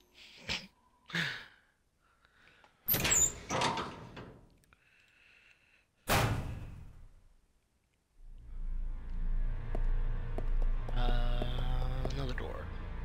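A door opening in the survival-horror game Resident Evil 0: sharp clunks and a creaking sweep stand out among sparse, quiet sounds and brief voice bits, followed by a low droning ambience.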